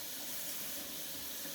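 Water pours steadily into a cooking pot to cover plantains for boiling, a continuous close hiss of running liquid with no talking.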